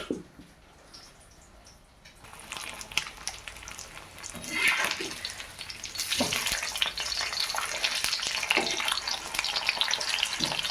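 Large fish pieces frying in oil on a flat dosa griddle, a soft crackling sizzle that starts quiet, swells after two seconds and grows louder and busier from about six seconds on.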